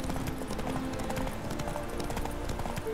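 Horse hooves clip-clop steadily and close by in The Witcher 3: Wild Hunt, with a faint whinny and a busy game background mix running throughout.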